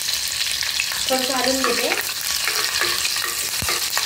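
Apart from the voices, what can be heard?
crushed garlic and green chillies frying in oil for kolim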